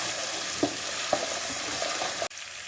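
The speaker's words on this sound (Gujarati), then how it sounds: "તેલ ગરમ થઈ ગયું છે તો હવે છે ને એડ કરી દેવાની છે રાઈ, મીઠા લીમડા, આદુ મરચુંની પેસ્ટ" Mustard seeds, curry leaves and ginger-chili paste sizzle in hot oil for batata poha, a loud steady crackle with a few distinct pops, then a sudden dip as the frying quiets.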